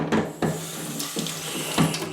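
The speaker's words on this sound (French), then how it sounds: "Donc un petit jet d'eau tiède, à peine tiède." A thin, barely warm jet of tap water rinsing tomato seeds, splashing and gurgling close by with uneven bursts as the flow hits the seeds and container.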